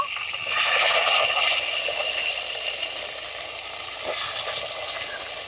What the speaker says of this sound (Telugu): ఇప్పుడైతే పోపులోకి మనము దోసకాయ ముక్కలు వేసేసుకున్నాము.